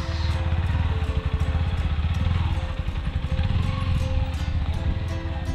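A trail motorcycle's engine putters with a steady, fast, chattering pulse. It stays loud and close for the whole stretch.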